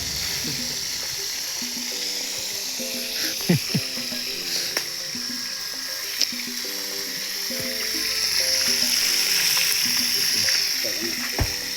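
Food sizzles in a frying pan with a steady hiss, joined by occasional clatter and voices talking nearby.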